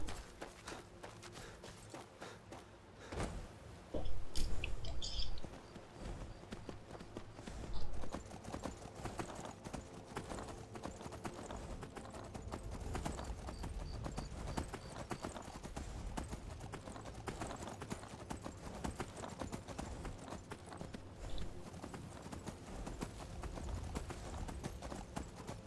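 Horse hooves clip-clopping in the VR Skyrim video game, a steady walking rhythm of hoofbeats with a few louder thuds early on, over a low game soundscape.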